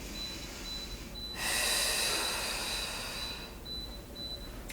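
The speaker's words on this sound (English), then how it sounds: "Inhaling and exhaling." Steady breathing in and out during a level 2 Pilates exercise, a loud broadband rush swelling in the middle of the clip and then easing off, with no talking.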